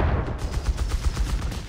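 Sustained rapid bursts from a Vickers machine gun in Company of Heroes 3, a dense rattling stream of shots heard loud and close without talking.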